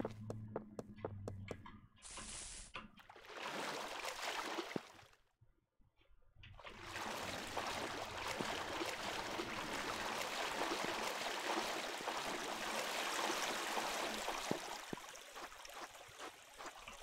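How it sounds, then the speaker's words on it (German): Flowing water in the block-building game Minetest, a steady rushing stream that runs continuously, briefly dips, then swells back to a loud, full wash for the rest of the clip. "Warum habe ich da Wasser?"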